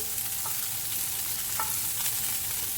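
Pieces of food browning in a hot pan, a steady close sizzle and crackle of frying with occasional light scrapes as they are stirred and kept moving.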